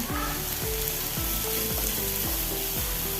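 Four large chopped onions frying in oil with mustard seeds over a full gas flame, a loud, dense sizzle close by, with repeated rhythmic stirring or tapping strokes throughout and no talking.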